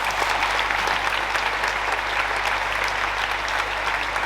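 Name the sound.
audience applause for the local team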